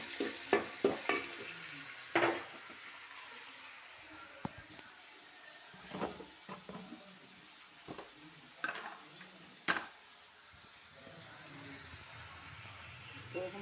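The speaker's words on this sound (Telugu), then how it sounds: "నూనె పోసి జీలకర్ర వేసిన." A tempering of cumin and gongura sizzling in oil, with a quiet background hiss broken by sharp clinks and scrapes of a stirring utensil against the pan.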